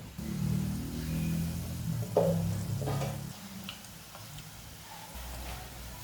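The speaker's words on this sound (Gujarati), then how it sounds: "તમે જોઈ શકો છો એકદમ સરસ ફ્રાય થઈ ગયા છે" Kathiyawadi vanela gathiya sizzle as they fry in hot oil, a soft steady crackle with a few faint clinks from a pan or utensil.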